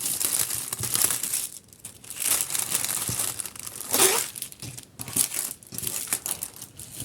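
Crinkling and tearing of a clear plastic wrapper being opened from around cross-stitch fabric, a close, continuous rustle with sharper crackling bursts throughout and no speech.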